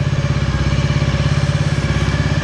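A Honda Dream 50 motorcycle engine idles steadily just under 2000 RPM after an idle screw adjustment, its small single cylinder giving a close, loud, even putter with light mechanical clatter and no talk.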